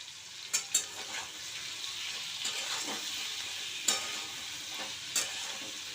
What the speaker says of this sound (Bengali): আলু পেঁয়াজটাকে সুন্দর করে হালকা করে ভেজে নিতে হবে